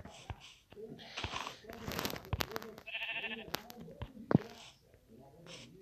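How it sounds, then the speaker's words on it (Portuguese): Sheep bleating in the Minecraft video game, several short wavering bleats scattered among game sounds, with a person talking quietly at moments. "Barulho de ovelha."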